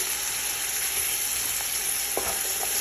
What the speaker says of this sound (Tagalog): at ngayon i-add ko na itong chicken. Kailangan lang natin yan siyang balik-balik